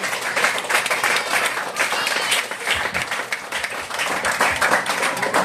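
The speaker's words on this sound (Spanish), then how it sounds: "Un aplauso a Jesucristo" A congregation at a church sermon applauding, a dense, sustained wave of clapping from a sizable crowd, with faint voices mixed in, steady for several seconds.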